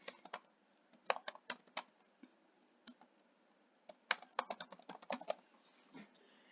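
Fingers type an email address on a computer keyboard while setting up an account, with irregular bursts of light key clicks and short pauses between words, close and quiet with no talking.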